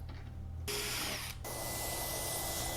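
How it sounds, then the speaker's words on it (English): Power drill boring hardware holes into a wooden nightstand, a steady close whine rising sharply after a moment, briefly dipping, then running on continuously. "here I'm drilling those locations"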